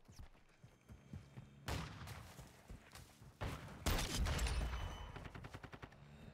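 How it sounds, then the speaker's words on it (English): Shotgun fire in the shooter game Call of Duty: Modern Warfare II, several sharp loud blasts over a busy battlefield din, with the heaviest shots landing around the second and fourth seconds. "Was that a headshot with the shotgun?"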